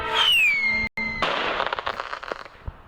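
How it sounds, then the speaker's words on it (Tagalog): Fireworks in the Roblox game Grow a Garden: a rising whistle arcs up, breaks off briefly, then bursts into a spread of crackling pops that thin out, heard alone at moderate volume. "Ang fireworks"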